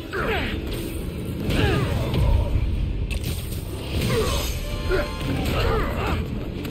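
Spider-Man smashing through a glass floor in the video game, with crashing, clattering debris and mechanical clanks that swell and recede in bursts over a dense, steady game soundscape.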